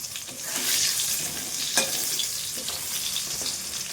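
Egg fritters (phuluri) sizzle and crackle in hot oil, a dense steady frying hiss with small pops, fairly close and continuous, no talking.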